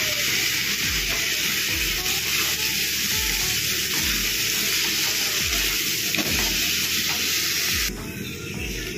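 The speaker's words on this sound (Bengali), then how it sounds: "এবার বয়েল করে রাখা আলুগুলো দিয়ে দিলাম।" Boiled potatoes frying in spice masala give a loud, steady sizzle close up, with rhythmic low scrapes of stirring repeating about every second beneath the constant hiss.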